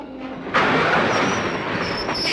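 A moving train roars along the rails, then the emergency brake is pulled and a sudden surge of harsh hissing and screeching wheel squeal follows, loud and sustained.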